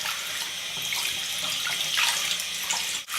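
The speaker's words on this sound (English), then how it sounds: "now I'm going to turn the sink onto warm water" Warm water runs steadily from a sink tap in a bathroom, a continuous close hiss and splash that holds throughout with no talk, cutting off abruptly at the very end.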